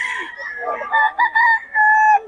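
A rooster in Bocaue gives one loud, close crow, rising and drawn out into a long held final note.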